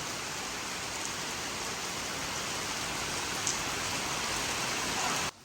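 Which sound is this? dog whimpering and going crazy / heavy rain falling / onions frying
heavy rain falling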